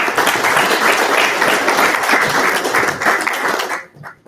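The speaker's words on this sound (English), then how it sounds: "Let's clap it up for Millie and" An audience at an SEIU celebration of the March on Washington anniversary applauds for Millie Silva, dense loud clapping from a large crowd that cuts off abruptly near the end.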